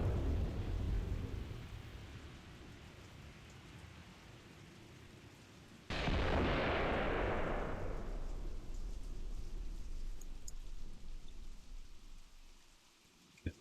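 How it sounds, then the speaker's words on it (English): Artillery barrage in the war game Graviteam Tactics: a low continuous rumble, then a sudden loud booming impact that rolls on and fades slowly, with no voices. "Some artillery coming in finally."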